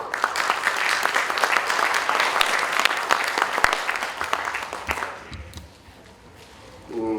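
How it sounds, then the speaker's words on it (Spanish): Loud audience applause at an engineering conference welcomes a World Federation of Engineering Organizations speaker, a dense wash of clapping for about five seconds before it fades to quiet room tone. "a quien vamos a recibir con un fuerte aplauso, por favor"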